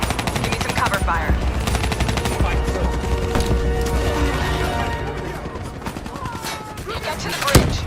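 Rapid automatic gunfire and bursts of shots rattle through a Call of Duty: Black Ops 3 combat scene, loud and dense, with explosions and voices mixed in.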